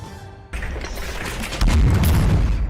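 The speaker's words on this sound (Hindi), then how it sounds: "हवा में गूंजते धमाके" Army firing exercise at Pokhran: after a quiet start a loud blast hits, then heavy rumbling booms and repeated crackling detonations roll on and grow stronger.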